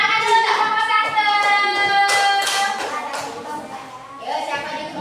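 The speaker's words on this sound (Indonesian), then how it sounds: "Tepuk tangan dulu untuk kelompok 1." Schoolchildren in a classroom clap their hands for a group of classmates, a short burst of scattered clapping mixed with voices and chatter.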